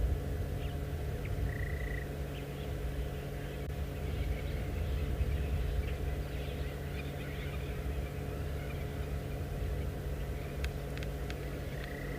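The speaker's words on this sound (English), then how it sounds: "Just have a listen to all of the birds waking up, giving their dawn chorus." Faint, scattered bird calls and chirps of a South African dawn chorus over a steady low background hum, a few short whistles and clicks spread across a quiet outdoor scene.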